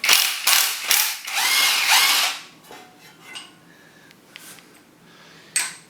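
Ratchet loosening the last bolt on a motor housing, loud close bursts of rapid clicking pawl strokes, then quieter scattered clicks and small metallic handling sounds.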